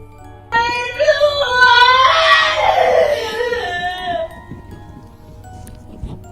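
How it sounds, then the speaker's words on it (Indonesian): A wavering, high-pitched wail rises and falls for a few seconds, sounding like someone sobbing or crying, then fades into quiet background noise. "itu kayak ada suara orang nangis geng ya di dalam video ini ya"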